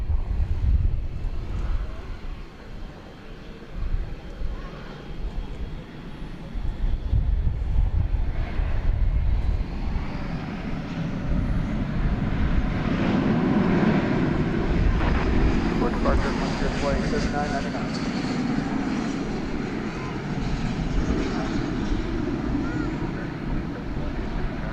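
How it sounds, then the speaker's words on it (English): An Airbus A321 jet airliner takes off at DFW Airport, its engine roar building into a broad, steady rumble over about twenty seconds, with wind buffeting and some voice chatter in the background. "Cleared for takeoff, flight 2709 to Palm Springs,"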